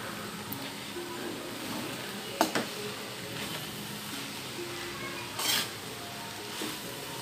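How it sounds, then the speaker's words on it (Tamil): Cabbage rice with ghee is stirred in a pan, making soft, continuous scraping with two sharper clanks of the utensil against the metal, all fairly quiet. "இப்போ நம்ம ஃபுல்லாக கிளறி விட்டுடலாம்."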